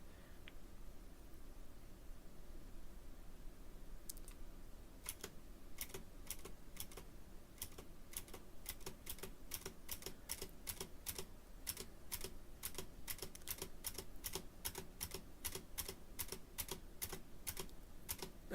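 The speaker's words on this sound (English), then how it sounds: "That's a clicky keyboard today." Rapid clicky computer keyboard keys being typed steadily at close range, a dense run of sharp clicks starting a few seconds in over a faint background hiss, with no voices.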